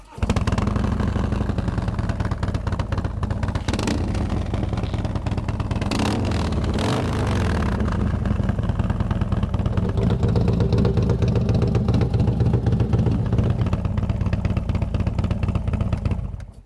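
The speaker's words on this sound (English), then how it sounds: "So here's a listen to that at an idle." A Harley-Davidson motorcycle fitted with a TAB Performance exhaust idles close by, its loud, low, uneven engine rumble running continuously with a brief blip of revs partway through.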